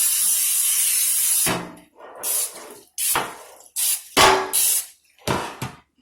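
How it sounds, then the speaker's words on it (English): Canola cooking spray is shot from a can onto a 9 by 13 baking pan: one long hiss, then a series of short, close, sharp spritzes separated by brief silences. "I'm next going to go ahead and spray my pan here."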